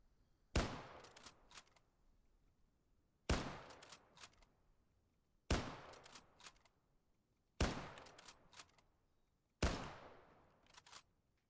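Mosin 91/30 rifle in Arma 3 firing five 7.62x54mm rounds, each loud, sharp crack spaced about two seconds apart and followed by a decaying echo.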